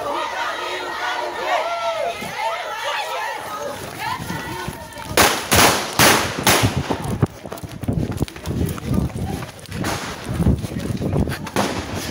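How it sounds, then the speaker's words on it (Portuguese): Gunshots crack through a street political march, several sharp loud bangs in a cluster, then more scattered reports while a crowd shouts and people run and yell close by. "é possível ouvir o barulho dos disparos e o corre-corre das pessoas"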